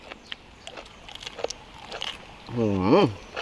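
Someone bites and chews a crunchy mouthful of a raw beef dish, sharp crisp crunches scattered close to the mic, followed by a short vocal murmur.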